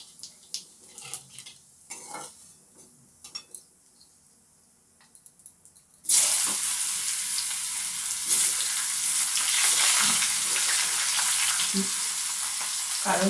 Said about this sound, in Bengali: একটু জিরে ফোড়ন দিয়ে দিচ্ছি